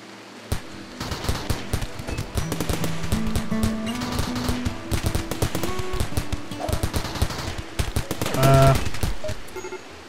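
A sustained firefight in the game Rimworld, with sharp gunshots and rattling automatic bursts packed densely across ten seconds, loud and close, with a brief heavier swell near the end and no speech.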